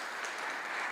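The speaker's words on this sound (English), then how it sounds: "Please give them a round of applause." Sustained applause from a conference audience thanking a panel at the close of a session, a dense, steady wash of clapping filling the whole moment at moderate, even loudness with no voices over it.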